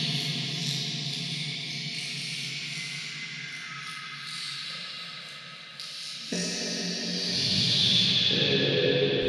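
Heavily reverberant, echoing processed sound from a podcast recording, a dense washed-out wash of effected audio with hiss and no clear speech, holding steady for several seconds before shifting texture.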